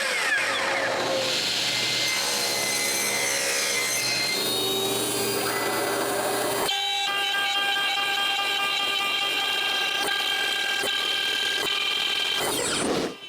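Wooden Christmas sled and reindeer decorations being cut with a power saw, a steady loud whining buzz with a pitch shift partway through, continuous and alone with no talk.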